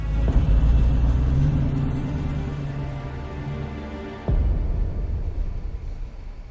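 A car in the Yakuza 3 video game drives off with a steady low engine rumble and whir, easing down before a sudden louder surge of engine noise near the end, with no talking.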